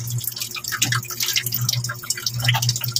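Water drains from a kitchen sink after boiled pork intestines are cleaned. A steady, close gurgle of running and dripping water continues throughout with no talking.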